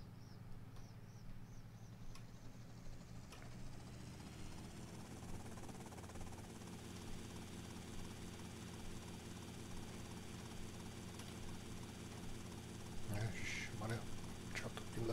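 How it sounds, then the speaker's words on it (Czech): Helicopter in the video game GTA Vice City, a steady droning rotor and engine hum running the whole time, with a brief louder burst near the end. "tak já tam asi si zalítnu tady vrtulníkem"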